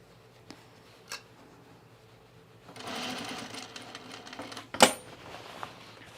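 A sewing machine stitching a narrow sleeve placket on a garment, a short burst of rapid mechanical whirring after a few faint taps, ending in a sharp metallic click, close and fairly quiet.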